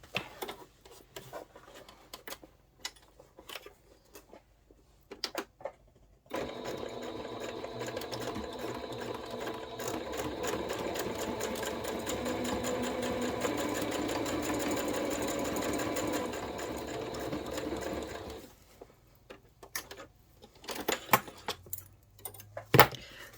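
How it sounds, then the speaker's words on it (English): Sewing machine stitching fabric with a backstitch for a sewing notions tray, a steady close mechanical whir for several seconds, bracketed by softer clicks and handling noises before and after. "then we'll go to the sewing machine, and like we did with this one, we are going to backstitch at the beginning"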